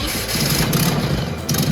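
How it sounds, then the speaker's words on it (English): A 1966 Volkswagen Beetle 1300 with its original engine runs close by, a steady mid-pitched air-cooled idle with a slight throb that holds evenly throughout, with no talk over it. "So it's going to sound like a Beetle when we start it."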